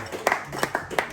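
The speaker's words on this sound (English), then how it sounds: "Round of applause, please." A few scattered hand claps from a small group of long-distance walkers celebrating a member's tenth hundred-mile completion, several sharp claps in loose rhythm, fairly faint and close, with light voices around them.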